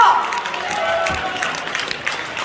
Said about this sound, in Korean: 마지막 박수 쳐주세요.